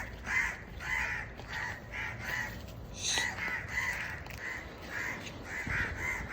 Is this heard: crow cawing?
yes